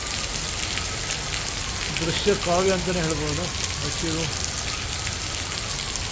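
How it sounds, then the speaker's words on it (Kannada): Steady rain in Bangalore patters down on leafy green plants, a constant wash of drops, while someone speaks over it midway through. "ಹಸಿರು ಗಿಡಗಳ ಮಧ್ಯೆ ಮಳೆ ನೀರು ಹೇಗೆ ಬೀಳ್ತಾ ಇದೆ"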